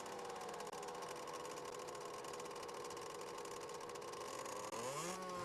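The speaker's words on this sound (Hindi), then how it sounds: "मोटरसाइकिलों पे आया है।" Several motorcycles arriving with engines running steadily throughout, a continuous droning hum close by, rising briefly near the end as one revs.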